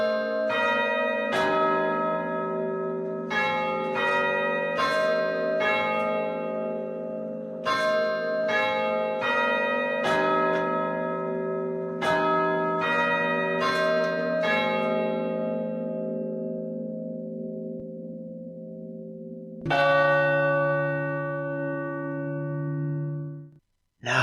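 A church bell rings as a sound effect, its resonant strikes overlapping in a sustained, ringing series before a final louder stroke that decays slowly, clear and alone.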